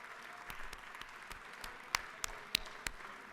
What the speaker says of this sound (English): will you please rise so that our colleagues can give us a round of applause